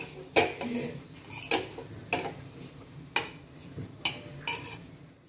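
Spoon scraping and clattering against a pan at an irregular pace as dry cauliflower sabzi with crushed peanuts is stirred, several sharp metallic knocks standing out against a quiet background.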